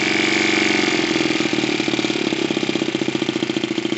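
A gauge 1 model Y92 locomotive's small engine runs steadily, a loud, close, rapid mechanical chugging that keeps an even pulsing rhythm throughout, with no voices over it.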